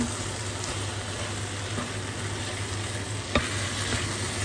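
About 1.5 kg of beef for goulash, seasoned with red paprika and black pepper, is stirred in a pot, giving a steady, fairly quiet sizzling hiss with a faint scrape and a single clink, no voices.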